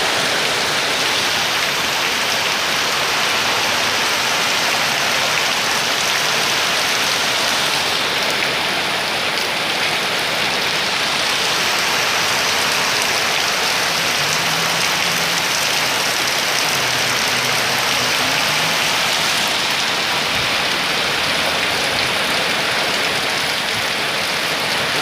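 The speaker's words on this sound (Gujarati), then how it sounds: "તમે જોઈ શકો છો કે બહાર કેવો બહુ વરસાદ પડે છે" Heavy afternoon rain pours down outdoors in Gujarat, a loud, dense, unbroken roar of water hitting the ground and roofs, steady for the whole stretch without speech.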